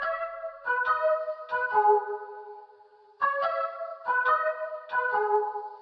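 Recreated main melody of a song, bright plucked synth notes in short rhythmic phrases, a three-note figure played twice with a brief gap between, clean and up front.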